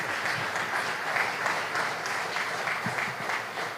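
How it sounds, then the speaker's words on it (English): An awards ceremony audience at St. John's Cathedral breaks into steady applause, a dense patter of many hands clapping that carries on without a break. "Another round of applause for Edison Seferino Coleman."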